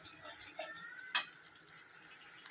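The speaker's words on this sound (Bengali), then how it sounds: "তো এই এখন মশলাটা কষছি এবারে।" Spice paste of ginger-chilli paste with turmeric, chilli and cumin powders being fried and stirred in a pan, giving a soft steady sizzle with one sharp utensil clink partway through.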